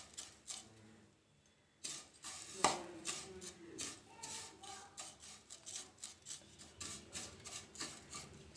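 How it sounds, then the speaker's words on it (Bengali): Dry vermicelli scraped and stirred in a pan as it fries with milk powder and sugar: repeated close rasping, rubbing strokes in an irregular rhythm, with a brief quieter pause near the start, and no talking. "এবার খুব ভালো করে সিমাইটাকে আমি ভেজে নেব।"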